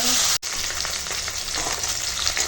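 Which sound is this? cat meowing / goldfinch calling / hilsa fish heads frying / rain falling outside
hilsa fish heads frying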